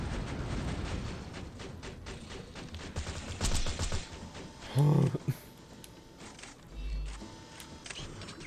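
Turret gunfire in Borderlands 2 on PS Vita: rapid bursts of shots with a few louder blasts among game effects and background clatter, moderately loud and irregular.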